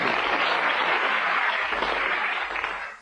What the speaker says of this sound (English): big round of applause for Barry.